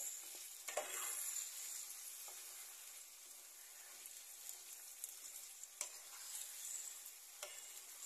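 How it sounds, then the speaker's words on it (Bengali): Spices frying in a pan while meat cooks, a faint steady sizzle broken by a few sharp scraping stir strokes, with no voices. "সাদা আর নতুন মশলা আরো ভাজা হয়ে গেছে।"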